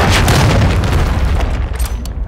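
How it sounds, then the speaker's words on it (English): A hostile cruise missile explodes in a combat video game, a loud, close boom with a rumbling low tail and crackling debris that fades over about two seconds. "Hostile cruise missile incoming."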